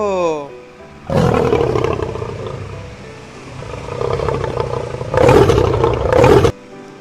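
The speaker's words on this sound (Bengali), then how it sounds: "এটি সিংহ" A lion lets out long, deep roars, one sustained rumbling roar followed by two louder bursts, close and powerful.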